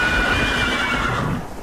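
A horse whinnies loudly and close in a tense street scene from an audio drama, one long, shrill neigh that wavers and fades over a rumbling background, with no speech.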